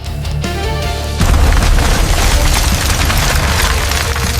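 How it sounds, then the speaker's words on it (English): A Tomahawk cruise missile striking the fire control radar of a surface-to-air missile site, a sudden loud blast after a brief hum that rolls into a sustained booming, crackling roar. "The first missile strikes the enemy's eye,"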